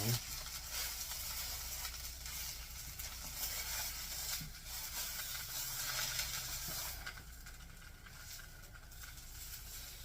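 Bean and cheese hot dog taquitos frying in a pan, a steady bright sizzle and hiss running throughout, with a few soft clicks as they are turned and a voice speaking quietly underneath.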